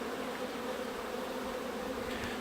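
Honey bees in a hive hum in a steady, even drone close by, faint overall, with occasional individual buzzes rising above it.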